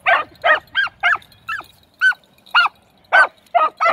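A young female dog, a puppy, barks repeatedly in a quick series of about ten squeaky, high yips, close and loud with short gaps between them.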